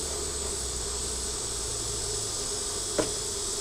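Honeybees buzz around an open beehive in a steady, continuous drone, with a couple of sharp knocks near the end.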